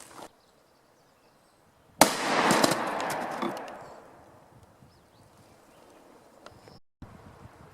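A .45 Auto pistol fires SPEER Lawman 200 grain +P total metal jacket rounds: one sharp, loud report rings out and then decays into a long, rumbling tail, with fainter cracks just before and after.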